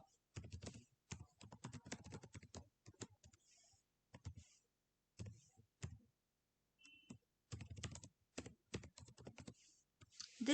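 Computer keyboard typing out Python code, quick bursts of crisp key clicks separated by short silent pauses, close and quiet.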